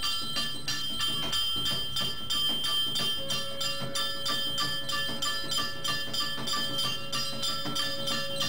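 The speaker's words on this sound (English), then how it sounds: "I love this music of drums and gongs." Drums and gongs play together during a Lord Shiva aarti prayer, a continuous, dense ringing clangour with a steady beat that holds throughout.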